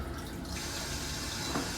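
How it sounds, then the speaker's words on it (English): Automatic toilet flushing on a luxury train seat, a steady rushing of water filling and draining, close by and continuous with a faint gurgle near the end. "Automatically flush."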